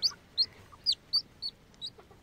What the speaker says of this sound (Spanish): Ahí está el gallo. Ese es el gallito.